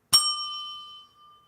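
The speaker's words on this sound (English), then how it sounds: "Let's do some dinging of some bells." A single bell is struck once with a bright, clear ding that rings on with a pure sustained tone and fades over about a second, alone with no talk.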